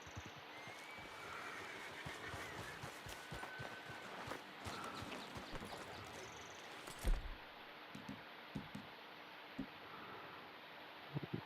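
Horse hooves clip-clopping on a trail in Red Dead Redemption 2, a steady irregular patter of moderate, fairly close steps over rustling ambient noise, with a louder thump near the middle.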